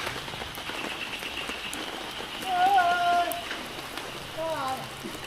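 Soft, steady rain patters on surfaces in the background while a few people talk over it at moderate distance.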